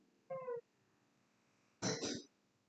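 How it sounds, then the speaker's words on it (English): A single harsh, raspy cough comes close and clear, preceded by a short high, tonal meow-like call in an otherwise quiet room. "And she's got a cough."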